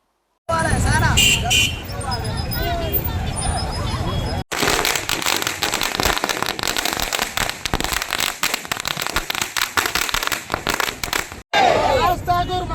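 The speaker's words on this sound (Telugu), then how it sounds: "టపాసులు కాల్చుతూ సంబరాలను చేసుకున్నారు" A dense barrage of firecrackers crackles and pops continuously in the middle section of a celebration, framed by loud crowd noise and slogan-chanting voices at the start and end.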